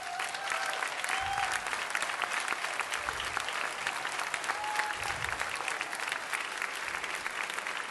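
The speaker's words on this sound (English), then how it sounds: "would you please stand so that we can give you a round of applause?" A crowd at an annual barbecue event applauds veterans who stand, with dense, sustained clapping throughout, while faint voices and brief whistle-like tones ride underneath.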